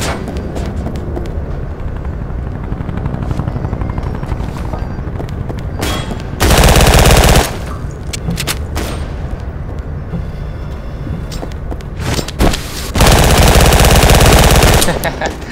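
Gunfire in the video game Double Action, rapid bursts of shots with two loud sustained volleys standing out over a busy, noisy background.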